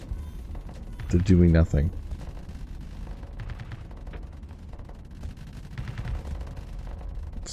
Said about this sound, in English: All the beams are shooting.